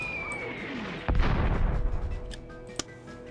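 Cannon fire in the game Warhammer: Dark Omen: one heavy booming shot that rolls on for about a second, followed by a sharp lighter crack, with faint battle ambience around it.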